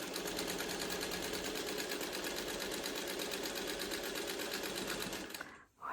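A sewing machine stitches a quilt seam in a fast, steady whirring rhythm, close and continuous, then stops abruptly near the end.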